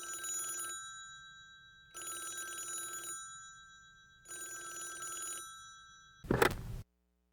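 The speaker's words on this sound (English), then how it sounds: "Mr. Gower was trying to drown his sorrow in whiskey when the telephone rang" Old-fashioned telephone bell in a radio drama, ringing in three long bursts separated by pauses, followed by a short clatter as the receiver is picked up.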